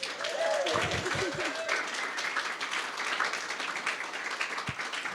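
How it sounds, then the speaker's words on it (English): Applause for a guest keynote speaker at a regional music session in Bendigo, a dense wash of many hands clapping steadily throughout, with a voice briefly heard over it early on. "Let's give him a round of applause."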